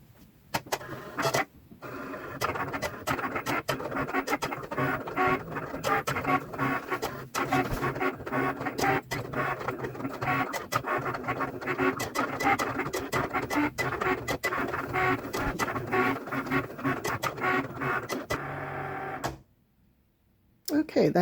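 A cutting machine slices iron-on material for a baby shower onesie, a steady mechanical whirring and scraping with rapid clicks and motor pulses running continuously for about nineteen seconds before stopping abruptly, then briefly resuming.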